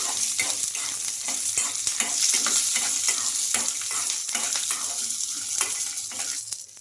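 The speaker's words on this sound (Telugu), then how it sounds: "ఆయిల్ వేస్తే మనకు మిర్చి అన్నీ బాగా వేగిపోతాయి" Peanuts and green chillies fry in hot oil in a pan, with a steady close sizzle broken by a regular series of sharp spatula scrapes and taps throughout.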